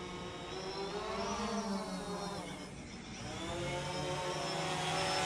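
A GoPro consumer drone flies overhead and heads back toward its home point, its steady propeller buzz and whir filling the scene throughout, swelling slightly louder near the end as it approaches.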